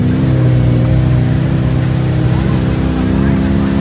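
A Can-Am Maverick X3 4x4 side-by-side, out mudding, holds its engine around 4,500 rpm in a loud, steady, unbroken drone with strong low harmonics.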